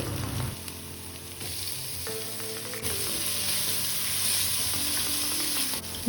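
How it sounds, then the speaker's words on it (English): Finely chopped onion sautéing in a pan for a mixed vegetable kuruma, a steady close sizzle and fry with occasional stirring scrapes, no talking. "add 1 medium-sized onion, finely chopped. Saute well until it turns translucent"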